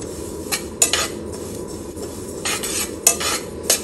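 Sesame seeds roasting in a pan over a low flame are stirred with a utensil, giving soft crackling sizzle and intermittent scraping clinks against the metal, close up with no talking.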